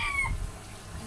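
A chicken gives a brief cluck or two, close and fairly clear, over a faint background.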